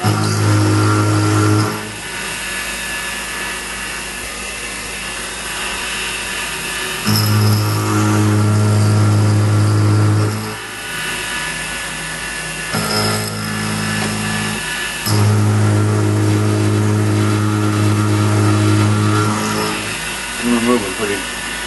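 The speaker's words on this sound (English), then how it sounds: "I'll turn it down the RPM a little bit. I'll cut it around." A metal lathe turns down a part for a Z-axis home switch, running a steady motor hum. Loud cutting stretches alternate with quieter pauses, and a person talks throughout.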